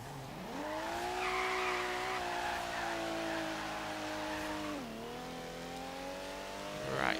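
A rear-wheel-drive Lamborghini Countach in Forza Horizon 3 holds a long, loud drift, its engine droning steadily beneath a sustained tire squeal that dips briefly and then rises again as revs climb at the end.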